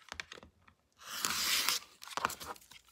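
A paper pieced log cabin quilt block is trimmed square, giving close, sharp cutting and tearing crackles from the fabric and foundation paper, with a sustained rasping cut in the middle and scattered clicks before and after.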